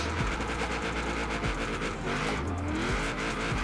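A Mitsubishi Lancer Evo converted to rear-wheel drive drifts with a loud, sustained engine roar and tire squeal, the pitch rising and dipping as the car slides, steady and close throughout.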